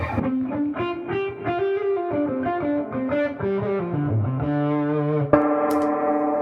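An electric guitar played through the Dude overdrive pedal into a Fender Super Reverb amp plays a distorted solo line of sustained, gliding notes that ends on a held chord, up close and steady, with no talking.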